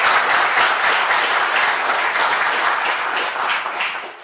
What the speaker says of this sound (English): I think it's really, it's worthy of applause.